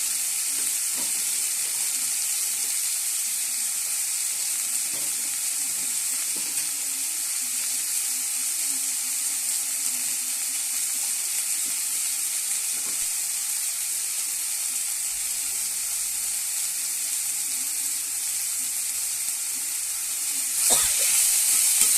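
Beans and green peas fry in a pan with a steady, close hiss of sizzling that holds evenly throughout. A brief clatter comes near the end.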